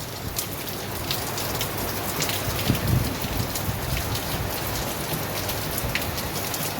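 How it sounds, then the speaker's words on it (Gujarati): Steady heavy rain hammers down in Surat, soaking a waterlogged rooftop terrace; a constant close hiss of falling water with scattered drops and splashes, and no voices. "બહુ વરસાદ આવે છે।"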